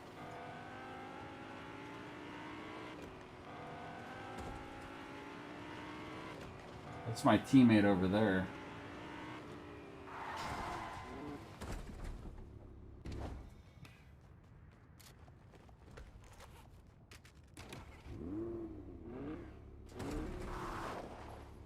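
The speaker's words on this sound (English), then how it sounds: "this car is like a blast to drive around and run into people" A car engine drones and briefly revs while being driven around in the Fortnite video game, a steady hum beneath near-constant talking, with a short louder burst midway.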